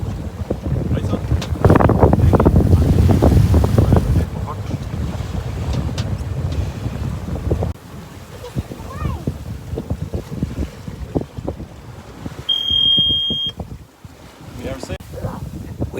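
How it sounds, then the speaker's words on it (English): A sailboat under way in the wind, with broadband wind and water rush at close range, a louder gusty stretch early on, a short tonal beep near the end, and voices faintly in the background. "We are sailing."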